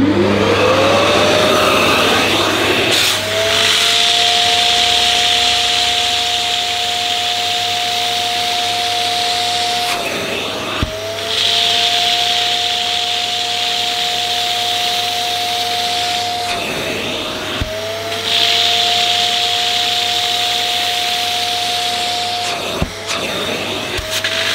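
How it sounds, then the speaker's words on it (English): A Thomas Aqua+ Pet & Family multifunction vacuum cleaner suctioning cleaning solution from a surface, a loud steady motor whine with a gurgling wet hiss, interrupted by three brief dips as the nozzle is lifted and set down again, with no talking. "I'll do one area and then go over it a few times, suction only, to remove all the solution"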